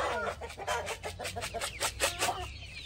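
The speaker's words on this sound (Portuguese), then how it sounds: "A galinhada da Regina." Chickens at a Brazilian family home cluck in a busy, overlapping series of short calls, fairly close and moderately loud, with no talking over them.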